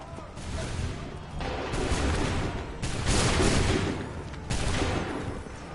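Musket volleys in Assassin's Creed III, several loud crackling bursts of massed gunfire fired in waves a second or two apart, with faint shouted voices mixed in.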